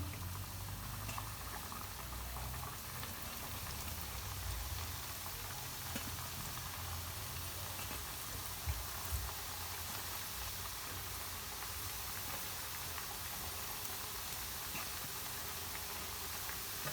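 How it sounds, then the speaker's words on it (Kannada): Chakkuli dough frying in hot oil gives a steady, faint bubbling hiss that holds evenly for a long stretch, with soft pops now and then and no voices. "ಎಣ್ಣೆ ಚೆನ್ನಾಗಿ ಕಾದಿದೆ. ಇವಾಗ ಸುತ್ತಿಟ್ಕೊಂಡಿರೋ ಚಕ್ಕಲಿಯನ್ನು ಹಾಕ್ತಾ ಇದ್ದೀನಿ."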